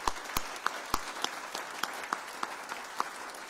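Audience applause at Hamilton's 2018 State of the City address, fairly quiet and a little distant, with sharp individual claps standing out every few tenths of a second over a softer wash of clapping.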